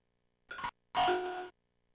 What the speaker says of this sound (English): You can already hear by that chime that it sounds terrible.